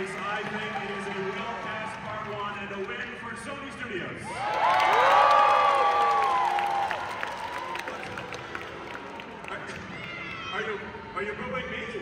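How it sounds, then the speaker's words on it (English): A live audience of children and adults, gathered for a counted-down dog race, lets out a loud swell of crowd noise that peaks briefly and fades back under a steady, noisy room hum. "Are you booing me?"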